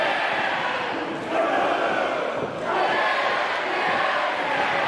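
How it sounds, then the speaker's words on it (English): Loud, continuous roar of wrestling fans cheering on a wrestler at a live Chaotic Wrestling event, a dense wall of crowd noise with brief dips and swells and shouts mixed in. "you hear these fans getting behind him"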